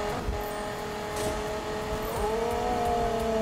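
A Viper car in Need for Speed under nitrous boost, its engine holding a steady high-pitched whine that climbs and then shifts gear at speed, loud and continuous with no talk.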